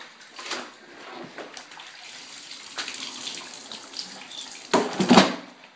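Soaked, heavy cloth diapers are dumped into a big tub of water, giving a few splashy sloshes with the loudest heavy splash near the end.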